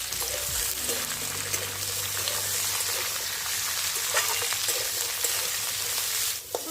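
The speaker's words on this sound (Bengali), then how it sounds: "এবার এর মধ্যে আমি আলু আর ফুলকপি কুচিগুলো দিয়ে দেবো দিয়ে খুব ভালো করে একটু হালকা করে আগে ভেজে নেবো" Chopped potato and cauliflower frying in oil in a pan for cauliflower singara filling, giving a steady continuous sizzle with occasional stirring scrapes, close and moderately loud, with no talking.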